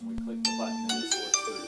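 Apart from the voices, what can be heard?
phone ringing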